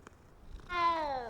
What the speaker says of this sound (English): Let me pet one more cat.